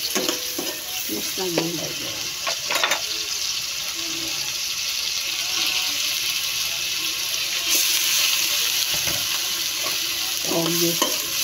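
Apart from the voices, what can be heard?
sautéing vegetables (bean sprouts, cabbage) in a pan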